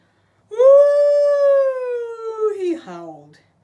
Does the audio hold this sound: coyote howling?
yes